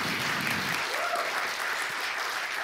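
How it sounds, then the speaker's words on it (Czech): A lecture audience applauds steadily after a science demonstration, a dense, even wash of many hands clapping throughout, moderately loud with a faint whistle-like tone briefly rising inside it. "potlesk pro Mášu"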